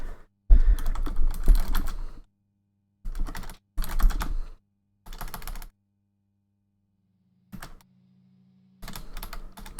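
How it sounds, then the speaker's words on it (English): Bursts of typing on a computer keyboard, several separate clusters of rapid clicks broken by short silences, close and fairly loud, with a low steady hum underneath. "Sorry about the typing."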